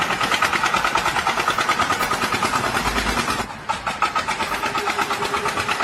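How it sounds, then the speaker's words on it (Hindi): A truck engine runs steadily at close range, a loud, rough, pulsing drone that dips briefly and then carries on unchanged. "कम से कम यार ट्रक का इंजन तो बंद कर देते"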